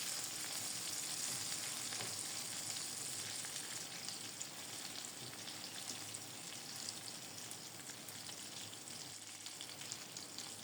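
Meat cutlets sizzle and fry steadily in a pan after being turned, a continuous close crackle of hot oil with no talking.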